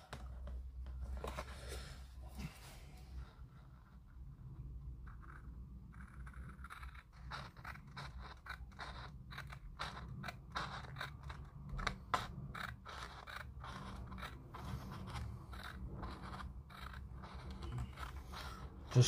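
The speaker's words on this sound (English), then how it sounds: "So I'm just going to cut the strip off." Scissors snip through a decal sheet strip for an Airfix Avro Vulcan B2 plastic model kit, a series of light, crisp clicks and cuts close to the microphone over a low steady background hum.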